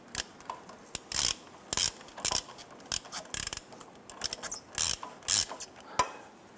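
A metal nut is spun onto the threads of a front lower control arm bolt on a 2015-2020 Cadillac Escalade, giving a series of short, close ratcheting clicks in irregular bursts.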